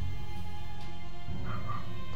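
A puppy next door barks and yips in short bursts, its calls a little distant and mixed into steady background music, with no talking.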